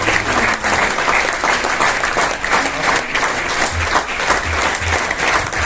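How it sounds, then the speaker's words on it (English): A hall audience at an event honouring platelet donors for Tata Memorial Hospital gives a loud round of applause. The dense clapping stays sustained throughout, with a few low thumps mixed in. "So it's a huge round of applause for them."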